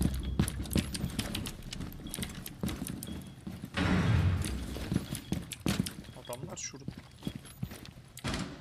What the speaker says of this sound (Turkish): O atlar büyük ihtimal.